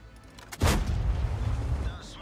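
A Soviet KV-1 tank's cannon fires in World of Tanks, one deep booming shot with a heavy low rumble that lingers and fades over the next second and a half.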